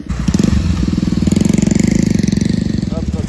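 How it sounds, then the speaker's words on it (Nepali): A motorcycle engine runs on a rural road near a new bridge, its steady putter loud and close throughout, with speech over it. "यहीँबाट तल बाइक जान्छ"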